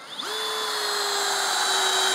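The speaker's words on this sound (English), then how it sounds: "that was drilling a hole in reverse through" A Ryobi ONE+ 18V brushless compact right angle drill revs up and runs steadily at high speed in reverse, boring through three stacked 2x4s, with a sustained whine, close and loud, no voices.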